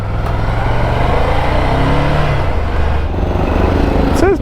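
A Ducati Scrambler 800 motorcycle on a test ride, its engine rumbling loudly and continuously with a pitch shift as it revs and shifts, all under heavy wind noise.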